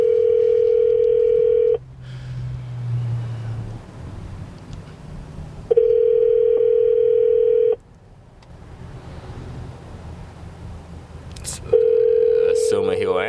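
An outgoing phone call rings out on the line: three long, steady ringback tones about six seconds apart, loud and clear, with quiet line noise in the gaps between rings.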